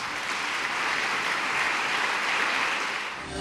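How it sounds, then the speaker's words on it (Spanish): A congregation applauds in church, steady broad clapping from many hands that swells and holds, fairly loud, with no voices over it. "Hermanos, demos una ofrenda de palmas al Señor."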